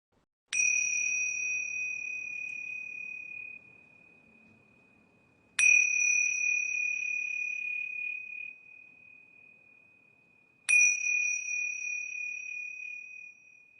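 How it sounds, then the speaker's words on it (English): Yoga bells ring three times, each a clear, sharp strike followed by a long sustained shimmering tone that fades slowly, evenly spaced about five seconds apart in a quiet room. "So I'm going to ring these yoga bells 3 times."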